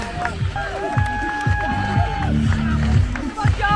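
A crowd cheering and shouting nearby as runners pass, with voices calling out and footsteps over a busy, lively background.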